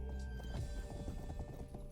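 Rapid hoof clip-clops of a horse trotting in a video game, steady and rhythmic over a soft ambient hum.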